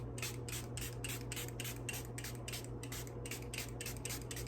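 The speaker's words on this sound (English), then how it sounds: "I probably sprayed way too much." Makeup setting spray hisses in rapid, even bursts, a steady run of about a dozen close pumps over a constant low hum from the room.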